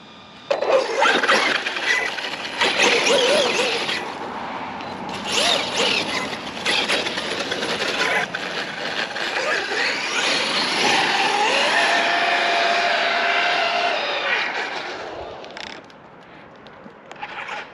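A Redcat Machete 6S RC car makes a high-speed run, its electric motor producing a loud, close, high-pitched whine that rises and falls with brief lulls.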